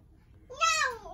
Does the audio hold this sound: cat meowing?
yes